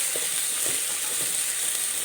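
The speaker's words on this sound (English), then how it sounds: "Now saute this very nicely." Garlic paste and ghee rice ingredients sautéing in a pan give a steady, close hiss of frying with soft scraping stirs at a slow, even pace, with no voices.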